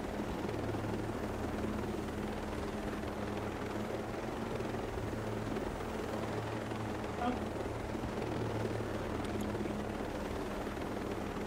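Helicopter rotor and engine drone in the video game Ghost Recon Breakpoint, a steady low thrum holding throughout at constant loudness, with faint game ambience and some voice-like sound mixed in.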